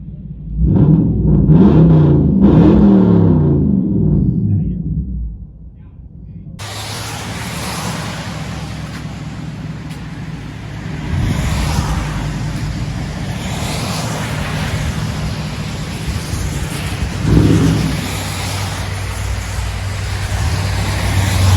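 A 1998 Lexus GS 400 V8 with straight-piped true dual exhaust rumbles and revs loudly at first, then settles into a steady, muffled interior drone with road noise and rain hiss.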